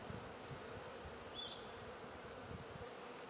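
Honeybees buzzing around an open hive during a beekeeping inspection, a close, steady droning hum of many wings with one brief louder pass near the middle, and no talking.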